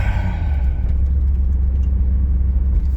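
A 305 TBI V8 engine that bogs runs with a loud, close low rumble, its idle wavering with a slight surge, with a higher rev fading out early on.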